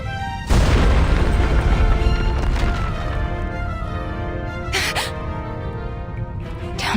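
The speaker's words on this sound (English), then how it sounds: "Is that an explosion?" A single loud explosion in the video game Reverse: 1999 bursts out sharply, then a broad rumbling roar lingers and slowly fades, with a couple of fainter secondary bangs near the end.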